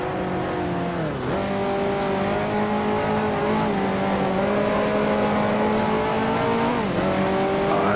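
Racing car engines in Grand Prix Legends on the 1955 Monaco circuit, a loud continuous high drone that rises with throttle and dips at gear changes, sustained without talk.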